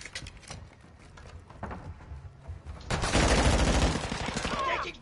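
Gunfire in Modern Warfare III on a container map erupts after quieter scattered shots, turning into a dense, loud, sustained burst of rapid automatic fire for the final two seconds.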